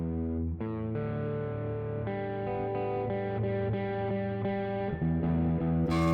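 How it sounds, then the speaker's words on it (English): Electric guitar run through a plate reverb with a light amount of grit, strummed chords ringing out and blending into one another, played alone with no talking. "All right, so let's hear this guitar sound."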